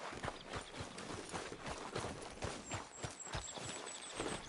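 Horse hooves clip-clopping at a steady walking rhythm in Red Dead Redemption 2, quiet and regular, with light ambient outdoor game sound and no talk.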